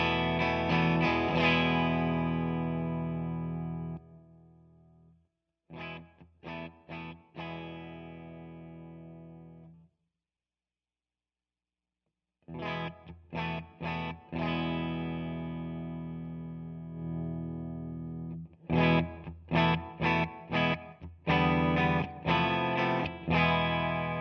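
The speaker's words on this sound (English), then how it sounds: "I'm playing my Nash T63 into a Fender Deluxe Reverb mic with an Audix i5" Nash T63 electric guitar played through a Fender Deluxe Reverb amp on its vintage channel at low volume, miked with an Audix i5: short strummed phrases and ringing chords separated by brief silent gaps.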